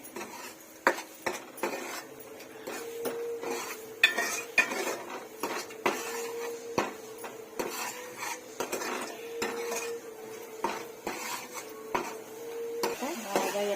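A metal utensil scrapes and taps against a pan again and again while food fries, irregular clinks over a faint sizzle, with no voices.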